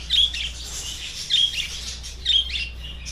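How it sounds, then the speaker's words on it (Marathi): Lovebirds at Karnala bird sanctuary give short, high chirps in three separate bursts, roughly a second apart, over a steady low background hum. "तो मित्रांनो हे सगळे लव बर्ड्स आहेत"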